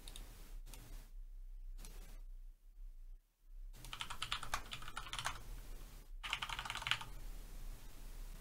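Typing on a computer keyboard to enter a store name, with bursts of rapid close key clicks separated by short pauses and no voices over them.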